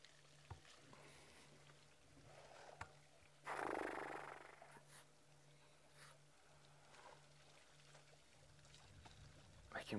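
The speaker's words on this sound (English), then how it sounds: "You can actually hear them, just hear the water as they draw it up into their trunk." Elephants at a waterhole in the Sabi Sand reserve during a drought, drawing water up into their trunks; a soft whooshing slurp swells briefly in the middle over a low steady hum and quiet outdoor background, with faint scattered ambient sounds.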